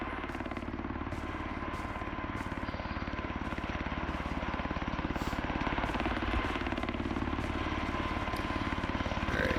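A helicopter in the video game Road to Vostok roars close overhead, its rapid rotor chop pounding steadily and loudly throughout with no pause.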